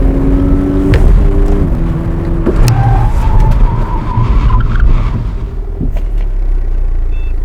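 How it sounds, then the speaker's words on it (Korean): A 2016 Cadillac CTS AWD with Brembo front brakes stops hard from 100 km/h, its engine note dropping away under loud, sustained tire squeal and skidding that fades toward a halt, close and without talk. "잠시 CTS의 브레이크 성능 한번 확인해 보겠습니다"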